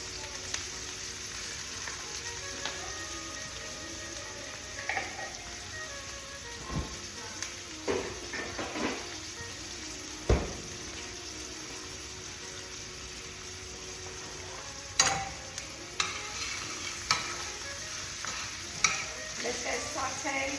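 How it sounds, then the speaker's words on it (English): Onion and garlic sauté in a pan with a faint, steady low sizzle, broken now and then by the scrape and tap of a utensil stirring, heard alone at a moderate distance. "Let that saute."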